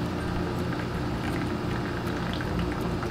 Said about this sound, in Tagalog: So, i-drain na natin yung tubig.